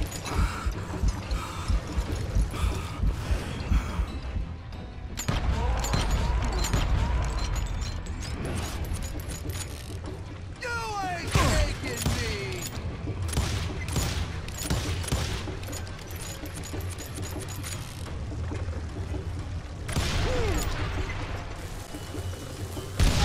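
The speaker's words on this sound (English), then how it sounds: "Oh crap, he's shooting me." Gunfight in Call of Juarez Gunslinger: repeated gunshots, some in quick bursts and some spaced apart, over a busy bed of game sounds and clatter lasting over twenty seconds, with no talk.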